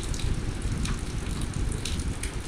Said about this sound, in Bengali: এবার ভেজে নিচ্ছি ডিমটাকে।